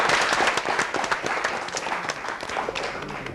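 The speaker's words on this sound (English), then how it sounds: "Let's have a big round of applause for him." A science quiz show audience claps steadily for a few seconds, a dense patter of many hands with no voices standing out.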